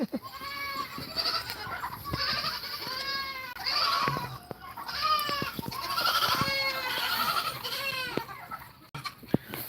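Several goats bleat over and over in a farm setting, loud wavering calls arriving in overlapping bursts across the whole stretch, with a rooster-like call and faint background noise mixed in.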